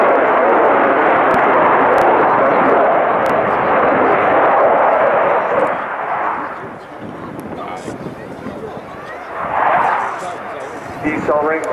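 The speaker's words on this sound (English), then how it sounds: "Decelerating from 220 knots rapidly, the Super Hornet will appear suspended in air, barely moving." A US Navy F/A-18 Super Hornet roars through a solo flying display at RIAT Fairford, its loud broadband jet noise sustained for several seconds before easing and surging again as it slows to near hover.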